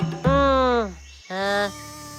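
A cartoon fly buzzes in two short rising, whining bursts separated by a brief gap, loud and close with no other sound around it.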